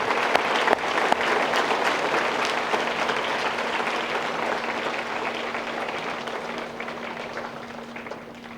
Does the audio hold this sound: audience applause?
yes